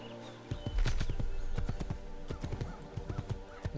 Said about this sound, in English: there's a horse